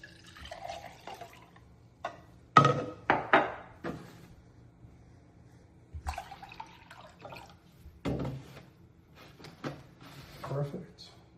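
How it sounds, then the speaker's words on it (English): Distilled water is poured into a cup of salt in short bursts with drips and clinks between them, close up, in an otherwise quiet room. "we're gonna pour a cup of distilled water into each"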